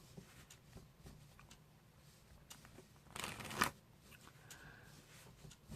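A single quick riffle of playing cards sounds in a quiet room, a short crisp burst of fluttering flicks.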